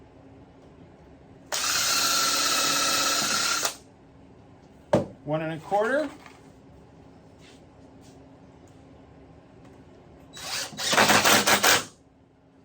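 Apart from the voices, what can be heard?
power drill drilling wood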